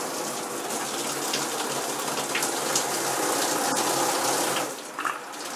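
A restored WaterPik Super Saver shower massage head sprays water in a steady, hissing rush, dipping briefly near the end as the flow changes.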